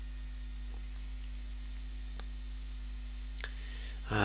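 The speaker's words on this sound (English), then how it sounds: "just click on submit" A few faint mouse clicks on a computer checkout page's submit button, soft isolated ticks over a steady low electrical hum, with a brief louder rustle at the very end.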